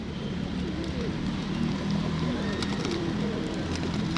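A large flock of pigeons coos steadily in the town plaza of Valencia, Negros Oriental, a low, continuous warbling murmur, close and fairly loud, with faint outdoor bustle and no talking.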